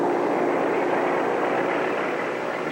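Aircraft engines roar in a steady, loud drone as planes launch from Japanese aircraft carriers turned into the wind for the 1941 Pearl Harbor attack.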